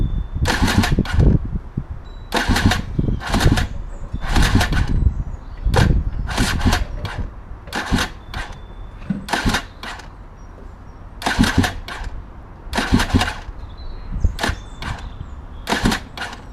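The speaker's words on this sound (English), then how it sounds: "We're going to start the bike. It's cold." A cold 2014 KTM Freeride motorcycle that is hard to start, with repeated loud bursts of cranking and sputtering in a steady stop-start rhythm, each attempt failing to catch and run.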